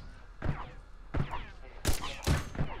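Bolt-action rifle fire in The Pit: Infinity arrives as four sharp, booming shots at a slow, uneven pace, each followed by a short echoing tail, with nothing else in between.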